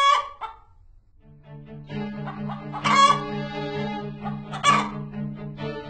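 A chicken clucks and squawks up close in a series of loud, irregular calls, with two sharper bursts in the middle and no talking.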